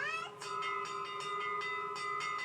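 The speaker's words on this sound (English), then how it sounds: "I hear a ship's bell!" Ringing bell strikes repeat at a brisk, steady rhythm, each a bright metallic tone with sustained overtones, moderately faint under a constant background hum.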